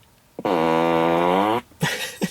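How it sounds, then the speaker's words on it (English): Tesla Model 3 Performance (2018) fart mode plays a loud, drawn-out synthetic fart lasting about a second, followed by a couple of short sputters, with no talk over it. "So you have like a fart mode, and so you can do fart on demand."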